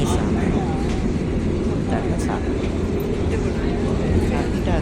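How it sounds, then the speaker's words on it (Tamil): A fast passenger train runs between Bengaluru and Katpadi, recorded from on board as a loud, steady, dense rumble and rush that never lets up. Faint voices may sit under the noise. "நல்ல ஃபாஸ்ட்டு ட்ரெயின்."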